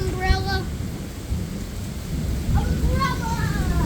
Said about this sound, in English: How intense is the thunderstorm?